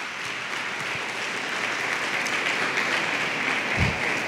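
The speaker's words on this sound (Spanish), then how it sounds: "Podemos dar un fuerte aplauso a nuestro Dios porque Él es bueno." A church congregation claps to praise God during a service, giving steady, continuous applause that holds at moderate loudness and ends with a soft low thump.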